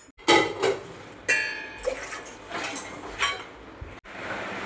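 Water is poured into a metal pot on a gas stove for modak dough. Short splashing bursts and sloshes come close up, mixed with light clinks of the pot.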